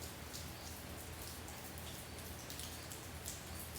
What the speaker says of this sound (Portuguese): Ó o barulhinho da chuva, vê se dá pra vocês escutarem.